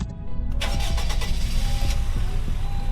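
A four-cylinder car engine in a Roblox driving game cranks briefly and catches, then settles into a loud, steady idle that carries on alone with no talk.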